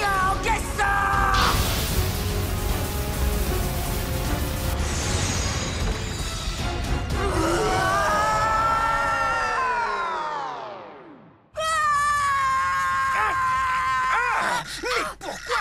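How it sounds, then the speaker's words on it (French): A Beyblade cartoon character screams while asleep: a long, loud, strained yell with a wavering, rising and falling pitch that fades out, then a shorter burst of shouting afterward, layered over the soundtrack. "Mais pourquoi tu hurles comme ça? Tu pourrais pas te taire quand tu te balades au pays des rêves?"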